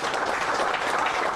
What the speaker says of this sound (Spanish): Yo quiero un aplauso para las mujeres también